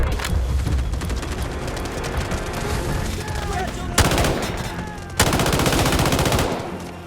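Sustained automatic gunfire from the mobile shooter game Delta Force Mobile in an attack-and-defend battle, dense rattling bursts with a couple of sharp louder shots near the end, with faint voice callouts mixed in.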